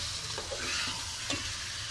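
Chicken and browned onions for biryani fry in a pot with a loud, steady sizzle, with two quick scraping stirs.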